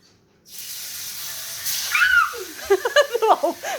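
Tofu hits a smoking-hot pan and breaks into a loud hiss and sizzle after a moment of quiet, with sharp spitting crackles building toward the end.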